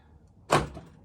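A Toyota Land Cruiser 100 Series power door lock actuates once, a single quick thunk close up against near silence.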